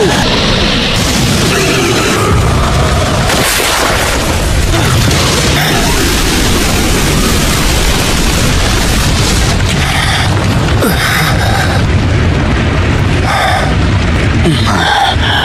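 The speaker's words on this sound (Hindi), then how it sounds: "Fire style dragon flame jutsu." A fire style dragon flame jutsu explosion in the Naruto anime: a sustained, very loud roaring boom with rumbling bursts and crashes throughout, dense and unbroken.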